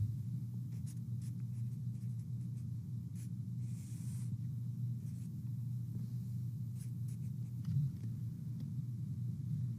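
Sharpie marker scratching across paper while a cash-flow timeline is drawn, with steady close strokes and squeaks repeating throughout over a low constant background rumble.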